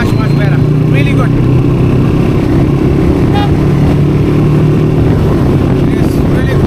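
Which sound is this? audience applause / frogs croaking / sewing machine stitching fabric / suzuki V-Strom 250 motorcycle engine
suzuki V-Strom 250 motorcycle engine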